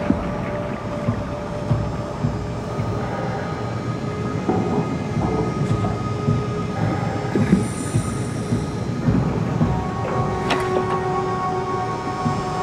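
A shuttle train in the sci-fi game SOMA rumbles along its track with a steady mechanical drone, metallic wheel squeals and clanks rising at moments, sustained and fairly close with no talking.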